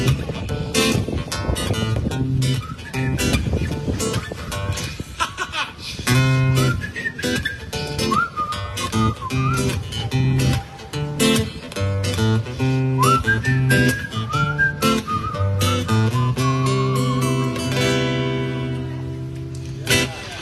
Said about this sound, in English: Turns out it's impossible to whistle with a mouthful of hair.